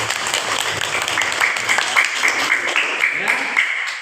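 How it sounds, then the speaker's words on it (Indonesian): Classroom clapping for a student, a short burst of hand claps with voices chattering over it, fairly close and moderately loud. "Wah, bagus sekali tepuk tangan, Reja."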